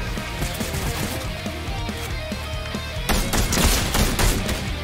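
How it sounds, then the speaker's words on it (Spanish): Rapid bursts of gunfire in the video game Fortnite crackle over a steady background, growing louder and denser in the last couple of seconds. "también le están disparando tus francotiradores, Adri"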